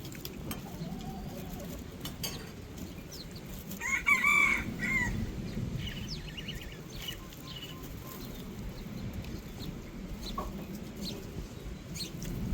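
Wild chickens cluck and a rooster crows in the mid-distance, with scattered chirps of other birds over a low outdoor background murmur, the crow standing out briefly before the clucking continues.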